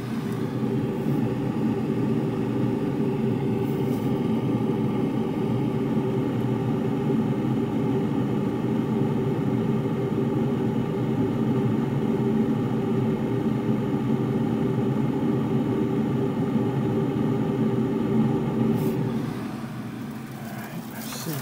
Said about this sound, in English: Got a little bit of a helicopter here.